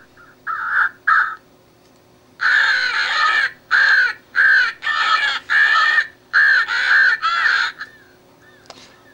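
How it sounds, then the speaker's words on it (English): A Cass Creek electronic crow caller plays a crow distress call, loud harsh caws coming in quick bursts: a pair, a pause, then a steady run of about eight raspy cries over a faint electronic hiss. "The next one is the crow distress."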